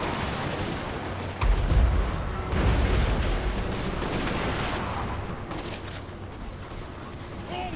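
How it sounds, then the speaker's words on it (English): Dwarf guns fire in volleys during a Total War: Warhammer battle, dense crackling gunfire with heavy booming bursts layered over a constant roar of battle noise. "Let's watch our guys gun down Big Bird"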